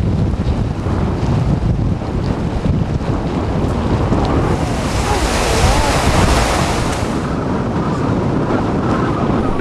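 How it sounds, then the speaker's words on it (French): Wind sweeps over Arctic pack ice off Svalbard, a steady, loud roaring rush that swells slightly midway and carries on without pause, with no voices. "Le vent souffle en permanence sur la banquise, provoquant un gigantesque mouvement de glace."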